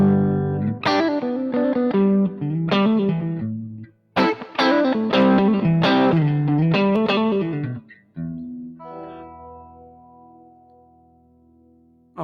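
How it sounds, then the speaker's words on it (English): Electric guitar, a 1974 Fender Stratocaster, playing a slow melodic passage with chords and single notes, lightly distorted and washed in reverb, ending on a sustained ringing chord. "Bit of reverb, a little bit of grit."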